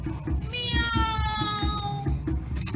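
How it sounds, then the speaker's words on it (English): A cat meows in a drawn-out, wavering cry over a steady rhythmic musical thump in the background, with no speech. "Meow."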